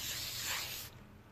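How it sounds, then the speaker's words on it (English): Spray can of varnish misting lightly over an acrylic pour painting outdoors, a single steady hiss lasting about a second before cutting off, close and fairly soft. "I'm just giving it a light spray."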